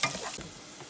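Diced onion sizzles and fries in a pan, a brief close crackling hiss with a light stir, no talking.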